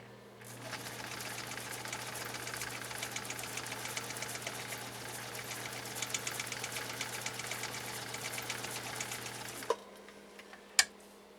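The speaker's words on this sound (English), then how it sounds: "All right, one more time, 3-point zigzag, significantly shorter." Husqvarna Viking 19E sewing machine running a short 3-point zigzag stitch, a steady rapid mechanical whir and tick for about nine seconds, then stopping with a couple of sharp clicks at the end.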